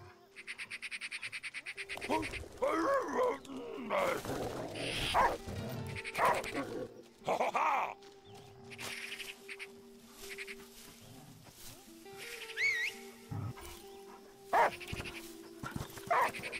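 Dog in the video game Last Day of June, giving several separate barks and yelps scattered across the stretch, mixed with other animal-like calls and tonal game sounds.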